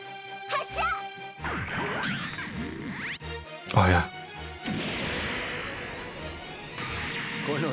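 Hyper mega launcher attack in Super Robot Wars Alpha Gaiden on PlayStation 1: a string of loud crashing blasts and impacts mixed with sweeping, whooshing energy tones, with game voices over parts of it.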